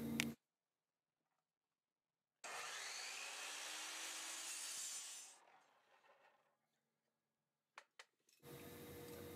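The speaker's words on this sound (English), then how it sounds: "I marked the other 2-inch PVC cap and cut it in the same way as the first." Hand-sawing a 2-inch PVC cap, a steady rasping scrape lasting a few seconds, followed by fading rubs, silence, and a few sharp clicks and handling noises.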